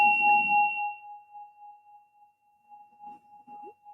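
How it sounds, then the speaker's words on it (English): A struck bell rings out with two clear sustained tones that slowly fade and waver as it vibrates, with a brief voice at the start and soft murmurs near the end. "to everyone I meet, I'm gonna let them ring the bell"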